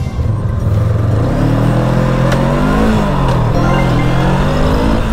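An FKM Glider 500 motorcycle accelerates hard on an open road, its engine note climbing steadily through the gears with a loud, continuous roar and rising pitch, heavy wind rush behind it, no talking.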